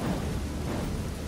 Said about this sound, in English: Why do I hear rain but I don't see any rain?